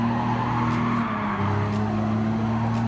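A race car on the Suzuka Circuit East in Gran Turismo Sport braking hard: a loud, steady engine drone that drops in pitch as the revs fall, with faint tyre squeal and no talking.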